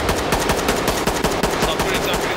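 Rapid automatic gunfire in the tactical shooter game Ready or Not, loud and sustained bursts of closely spaced shots rattling through the whole stretch with hardly a pause.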